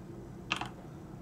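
A brief, quiet burst of a few quick keystrokes on a computer keyboard, close by against a low background hum.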